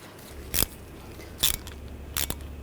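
A screw is driven into the brake rotor of a 2014-2018 GMC Sierra 1500 during a hub assembly job, with three short, sharp crunching clicks spaced about a second apart over faint background hiss.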